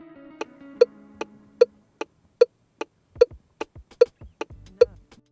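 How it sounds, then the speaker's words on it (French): A car turn signal clicks at normal speed, a steady, evenly spaced tick-tock of crisp close clicks alternating in pitch, with a faint low hum underneath and no talking. "voici le son d'un clignotant qui marche correctement."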